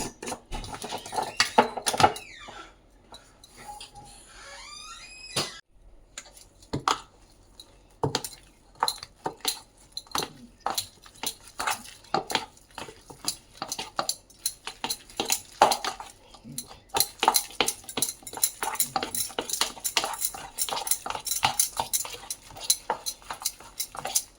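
Batter with salt is beaten by hand in a bowl, a long run of rapid, close clinking and scraping of utensil against the bowl, uneven in pace with brief pauses, no talk.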